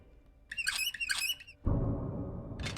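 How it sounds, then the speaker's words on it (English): A bird squawks in the video game Boxes: Lost Fragments, two loud, close, harsh calls, followed by a sudden burst of broadband noise and another short squawk at the end. "That's the sound a bird makes"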